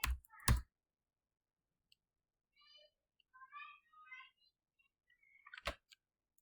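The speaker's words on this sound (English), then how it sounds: "You click here and type Python." Sharp mouse clicks and key taps on a computer, a quick cluster at the very start and another single loud click near the end, separated by quiet stretches with faint, thin chirping sounds.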